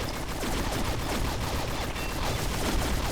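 Dense, continuous gunfire in the shooter game Combat Arms, a steady loud crackle of overlapping shots with no pauses.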